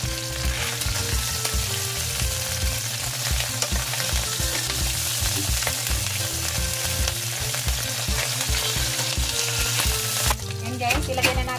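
Bacon fries in a hot pan with a loud, continuous close sizzle full of rapid crackles and pops, joined by a rhythmic stirring or scraping pulse, steady until it briefly thins near the end.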